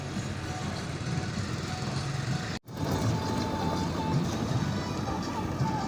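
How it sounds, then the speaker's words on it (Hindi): Diesel tractor engine running in a farm field during crop preparation, a steady, moderately distant drone with a brief dropout partway through. "और मेरा कज़न है जो ट्रैक्टर चला रहा है अभी।"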